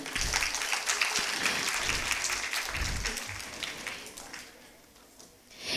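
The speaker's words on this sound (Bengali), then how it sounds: "জোরে একটা করতালি।" An audience at a Bengali community gathering claps loudly and continuously, a dense, steady burst of applause that slowly fades toward the end before a brief swell.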